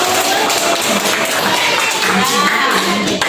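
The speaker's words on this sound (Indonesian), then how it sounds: "Coba tepuk tangan bagi Nurul." Students in a dance class at a vocational high school in Banda Aceh applaud a classmate: a steady wash of hand clapping from a classroom group, fairly loud and continuous, with voices mixed underneath.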